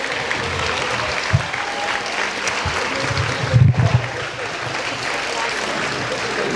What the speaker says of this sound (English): can I get one final round of applause for these amazing candidates?